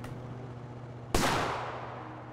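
A single sharp gunshot in the survival game Raft cracks out loud and close over a low steady hum, its blast decaying over about a second.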